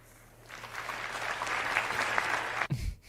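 Audience clapping at a talk on Orwell's 1984, a steady wash of many hands that swells in after a quiet start, holds for about two seconds and then stops abruptly.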